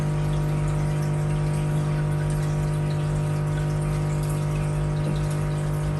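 Tap water pours steadily into an aquarium tank during a water change, a continuous rushing flow over a low, constant hum, close and unbroken throughout.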